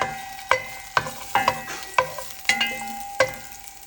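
Garlic fries in a little oil in a pan, a soft sizzle broken by sharp utensil clicks and scrapes against the pan roughly every half second as it is stirred.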